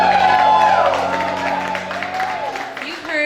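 Bar audience clapping, hooting and cheering for a live band at an evening show, a steady crowd roar with scattered whoops and a few voices over it.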